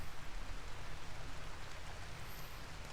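Steady rain from the game Rimworld, a soft, even wash of falling drops with a low rumble beneath, constant throughout and without talk.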